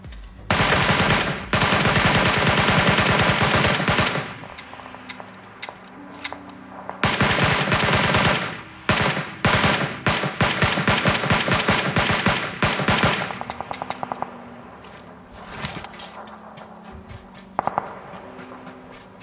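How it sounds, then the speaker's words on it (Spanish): Rapid bursts of automatic gunfire from the PUBG Lite video game, loud and close, with long sustained volleys broken by short pauses and scattered single shots later on. "Creo que se ven los tiros por ahí"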